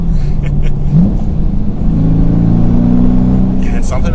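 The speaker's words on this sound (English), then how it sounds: "you get the V8 sound." A 2022 Dodge Challenger R/T with a V8 and manual gearbox revs loudly with a deep, rumbling engine note that rises in pitch, heard close up alongside road and cabin noise.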